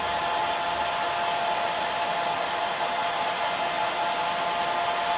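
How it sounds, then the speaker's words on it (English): A hair dryer blows steadily on a freshly painted wood slice craft pumpkin, a loud, close, continuous whirring hum that stays constant throughout, with no talking. "going to speed up that process just a little bit with the hair dryer."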